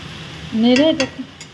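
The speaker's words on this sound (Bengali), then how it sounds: "দিয়ে আমি এটাকে একটু" Kolmi greens (water spinach) with turmeric and salt stirred in a frying pan, a short scraping stir with light sizzle and a few utensil taps, close and fairly quiet, no speech.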